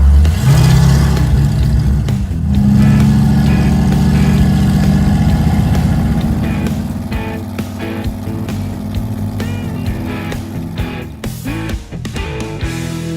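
A Mazda engine hums loud and steady at highway cruising speed, its low drone blended with road and wind noise, carrying on continuously with no voices.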